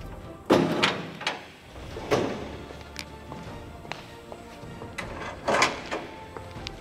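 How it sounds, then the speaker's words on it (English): Metal latches on the doors of a GLCS 500 folding IBC container snapping and clunking shut, a series of sharp, close knocks and clicks spread out with quiet gaps between them. "you can lock the doors in place with the latches"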